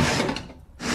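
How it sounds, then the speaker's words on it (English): A cheap bargain-price vacuum cleaner with deep suction runs in a radio advert, giving a loud, broad whooshing roar that briefly drops away before surging back. "This is the sound of Julian's bargain price vacuum with deep express suction."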